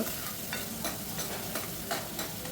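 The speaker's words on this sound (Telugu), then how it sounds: "ఇది అదే నూనెలో నేను 2 కట్ చేసుకుంటే ఆనియన్స్, కరివేపాకు, పచ్చిమిర్చి వేసుకున్నాను." Onions, curry leaves and green chillies frying in oil for an egg and prawn curry, giving a steady dense sizzle with soft stirring scrapes throughout, close and continuous with no voices.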